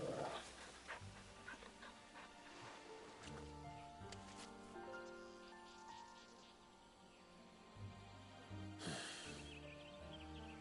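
A dog pants in the Final Fantasy XVI video game, with quick, soft, rhythmic breaths that carry on steadily over layered game music.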